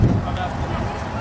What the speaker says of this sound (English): It's kind of windy, as you can tell from the wind blowing in the background